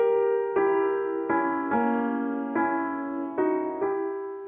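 Sustained harmonic orchestral chords from Wagner's Ring cycle opera (the Ring leitmotif, Das Rheingold) shift in a slow sequence of swelling attacks, rich and resonant, with no voices.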